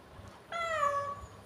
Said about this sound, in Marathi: लोक सांगताय तुमचं मांजर काय इतकं ओरडतंय सारखं